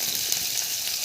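Vegetables, onion, cabbage and capsicum, fry in a pan for Chinese-style noodles, giving a steady close sizzle that runs alone throughout.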